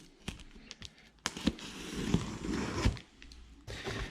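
A cardboard shipping box holding a tankless diving system is cut open by hand, giving a few close scraping, tearing and crackling bursts amid brief rustles, with no voices.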